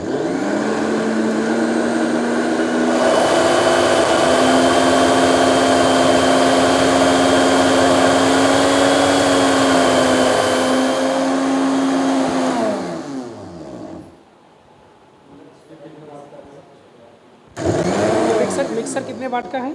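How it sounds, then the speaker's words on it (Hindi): A 550-watt kitchen mixer grinder runs on inverter power, whining loudly and steadily at close range for about ten seconds before winding down. After a short quiet gap it starts up again, and faint voices are heard in the background. "मिक्सर चलाइए भैया।"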